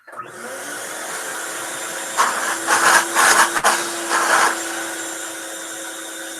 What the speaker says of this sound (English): I forgot to turn on my vacuum.